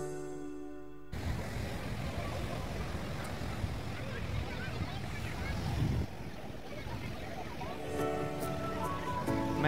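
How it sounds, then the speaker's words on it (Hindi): Ocean waves break continuously at Panambur Beach in Mangalore during the rainy season, a loud, steady broadband roar of surf with heavy wind buffeting the microphone throughout. "meditate here listening the smooth sound of the waves"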